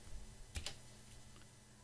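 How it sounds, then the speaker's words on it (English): A single press of the space bar on a computer keyboard while typing in Microsoft Word, heard as one or two quiet, close clicks against a soft background hum. "If you just press the space bar now,"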